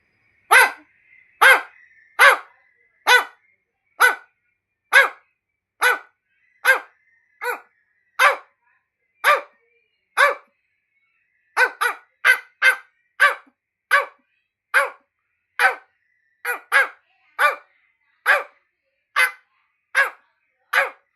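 A voice imitates a dog, letting out a long run of loud, evenly spaced barks, about two dozen in all with one short pause midway.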